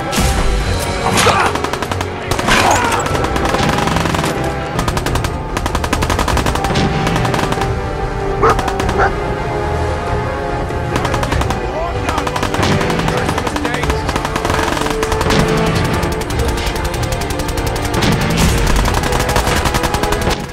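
Gunfire in the game Fallout rings out as loud, rapid bursts of automatic fire with scattered single shots and clanking mechanical noise, sustained and close throughout.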